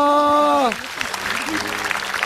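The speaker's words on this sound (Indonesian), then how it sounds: "langsung ini kita tepuk tangan dulu buat Kaseto" A studio audience at an Islamic religious talk show breaks into dense, steady applause for a guest, just after a short spoken line.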